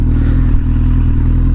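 A 2009 Triumph motorcycle pulls away, its engine a loud, close, steady low throb with a rapid pulsing beat that holds without letup, no talk.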